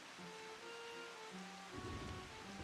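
Steady downpour in the video game Final Fantasy XIV Shadowbringers makes a constant soft hiss, with faint musical tones drifting underneath and no talking.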